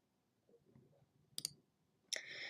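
Sharp computer mouse clicks in a quiet room, a pair of close clicks followed by another brighter click, with faint background noise between them and no speech.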